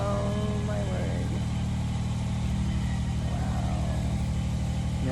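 A man lift's engine running steadily with a low droning hum, constant and fairly loud, while people talk over it.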